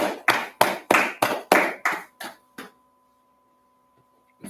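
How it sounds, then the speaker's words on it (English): About nine sharp, evenly spaced claps at a Bible teaching session, close and distinct, slowing slightly and fading before a stretch of near silence. "Let's clap it up."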